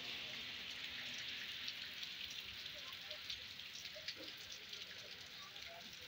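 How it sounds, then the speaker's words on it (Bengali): Steady rain falls on a Dubai street, a dense even hiss of drops spattering the surface throughout, with no speech over it. "ভালোই বৃষ্টি হচ্ছে"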